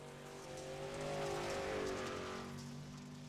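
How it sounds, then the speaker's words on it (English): Dirt late model race cars circle a dirt track during qualifying laps, a droning engine roar that swells and fades as cars pass at a distance, steady and fairly faint. "a couple of cars are now starting to get on the track here"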